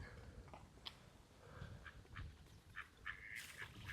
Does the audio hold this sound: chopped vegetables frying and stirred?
no